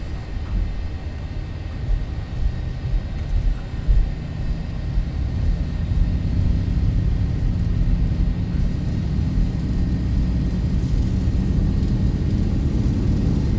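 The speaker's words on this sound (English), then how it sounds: "Takeoff power set." Boeing 737-800 jet engines spooling at takeoff power in the X-Plane 11 simulator, departing San Diego: a steady low roar and rumble with a faint high whine, building slightly and continuous throughout.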